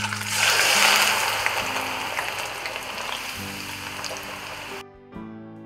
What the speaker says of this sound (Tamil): எண்ணெயோடைய பொரியிற சத்தம் நின்றுடுச்சு, சலசலப்பு குறைஞ்சிடுச்சு